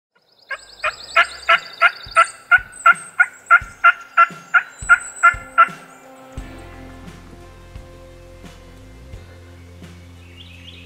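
A wild turkey gobbles during a spring hunt in Mississippi, giving a rapid, rattling run of about a dozen pulses that carries clearly, followed by fainter low background tones and no speech.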